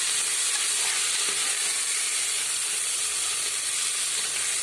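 Tomatoes frying in a hot pan with onions, a steady loud sizzle and hiss that runs unbroken from start to finish with no voices.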